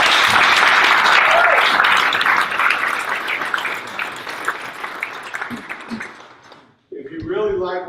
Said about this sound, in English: could you give him a little better applause than that?